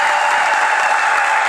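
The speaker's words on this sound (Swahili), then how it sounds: "Naomba tumshangilie Bwana kwa makofi." Steady congregation clapping fills a church, a dense, even wash of applause that holds at full strength throughout, with no pauses or voices above it.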